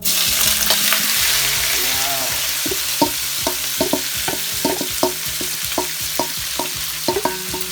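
Marinated beef hits very hot oil with a loud, dense sizzle, followed by a run of rhythmic scraping and clacking as it is stirred in the pan.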